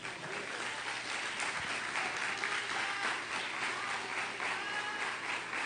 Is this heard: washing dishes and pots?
no